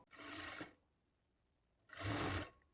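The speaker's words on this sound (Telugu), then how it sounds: "ఈ నెక్ దగ్గర నుంచి ఈ విధంగా హాఫ్ ఇంచి పైకి పెట్టేసుకొని పావు ఇంచి మార్జిన్తో స్టిచ్ చేసుకోవాలి" A sewing machine stitches blouse lining cloth in two short runs of rapid whirring, each about half a second, separated by a quiet pause, close by and fairly soft.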